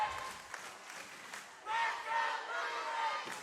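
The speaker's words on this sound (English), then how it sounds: "You can hear the Let's Go Bruins cheer echoing through the gym tonight." A crowd of Bruins fans chants and yells in a school gym during a St. Joe-Pisgah girls basketball game, loud, echoing voices rising sharply halfway through and holding steady.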